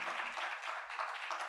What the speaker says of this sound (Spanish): Queremos un fuerte aplauso para el panel.